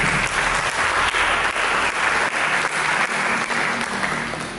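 A church congregation claps together through a sermon service, a dense, steady round of applause that stays loud throughout and fades slightly at the end.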